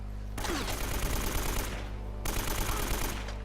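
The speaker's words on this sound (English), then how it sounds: "the Deagle has a really nice sound effect when you pull the trigger on it" Desert Eagle pistol fire in the Uncharted video game, two loud bursts of gunfire, each followed by a rattling, echoing tail, close and without voices.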